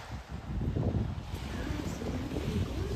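Ocean waves washing onto a beach at Sandbanks Provincial Park near Burgeo, Newfoundland, a steady low rumbling wash with gusty wind buffeting the microphone and no voices.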